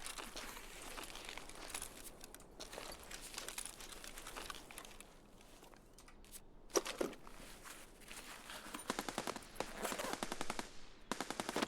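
Suppressed gunfire in the video game Escape From Tarkov, heard as a dense run of muffled shots in rapid bursts, with a louder cluster near the end over a steady background hiss.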